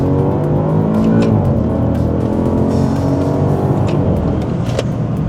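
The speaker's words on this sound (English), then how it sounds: "So let me put a gear or two down and just do a pull" A Maserati pulls hard under full throttle, its engine note loud and close as it climbs steadily through the gears for several seconds without any break.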